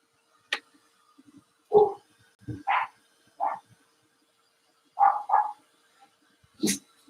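Dogs barking at home, several separate sharp barks spaced irregularly across the stretch, moderately close against a quiet background, with a couple of softer whimpering yips between them.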